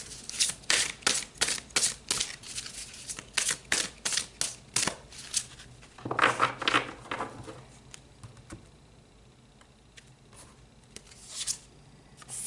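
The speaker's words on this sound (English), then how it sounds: "Let's pull some more cards." Tarot cards pulled from a deck and handled close up, a run of quick crisp flicks and slaps in fast succession, then a soft rustling shuffle before the handling trails off into near silence.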